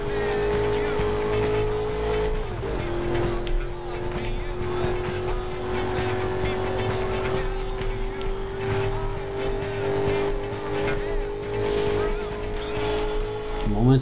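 Burnout Paradise Remastered car drifting on the Switch, tires squealing in a long, sustained screech that shifts pitch early on, over steady engine roar and game noise.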